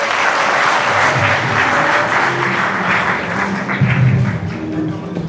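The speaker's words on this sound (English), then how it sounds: "a round of applause for Ian Tom" A forex summit audience gives sustained applause welcoming a keynote speaker, a loud, continuous crowd clapping that swells slightly near the end with a few cheers mixed in.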